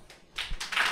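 Evening 8 o'clock clapping for health workers, heard faintly and at a distance, as a few bursts of scattered applause.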